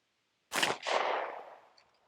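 A SIG P320 9mm pistol fired over a chronograph: two sharp shots in close succession after a moment of silence, the second trailing off in a ringing echo, loud and near.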